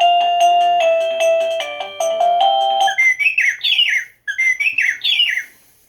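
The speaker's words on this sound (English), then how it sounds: "Bird chirpings." A Govee waterproof wireless doorbell plays a ring melody: bright electronic chime tones first, then a synthetic bird-chirping tune of rapid repeated tweets in two bursts, loud and close, with no speech.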